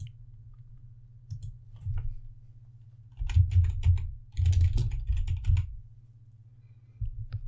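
Computer keyboard typing and mouse clicking at a desk while patching a GBA game for a flash reproduction cartridge, clustered keystrokes in bursts over a steady low hum, close and fairly clear with no talking.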